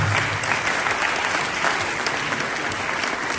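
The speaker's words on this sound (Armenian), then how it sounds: "Բայց եկեք ծափահարենք մեր երեխեքին" Audience applauding for child dance performers from the Aznavour college on tour in Stepanavan, a steady dense clapping that fills the whole moment at close range, with no speech over it.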